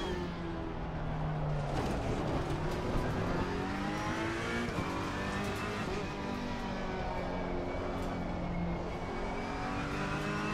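A race car in a racing video game holds a continuous engine drone, pitch sweeping up and down through gear changes and corners, steady and loud throughout with no voices.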